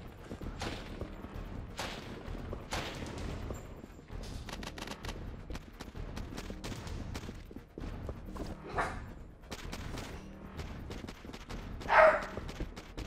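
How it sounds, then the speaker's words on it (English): Two dogs bark repeatedly in sharp, uneven volleys, mixed with video game gunfire from Goldeneye Wii, and one loud burst stands out near the end. "My two dogs just saw somebody run across the window there and now they're barking like mad."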